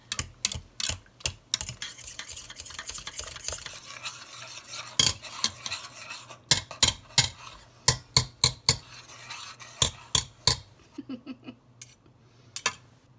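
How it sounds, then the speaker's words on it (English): A spoon scraping and clinking through sugar mixed with Sure-Jell pectin for Golden Japan plum jam, brisk irregular taps and scrapes against the container, close, clear and unaccompanied. "And I mix this sure gel in with the sugar."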